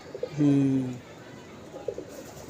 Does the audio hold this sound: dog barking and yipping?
no